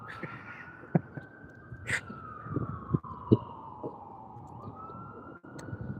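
An emergency vehicle siren wails steadily through a long, slowly falling tone on the streets around Baltimore's Inner Harbor, with sharp knocks and city traffic noise underneath and no talking.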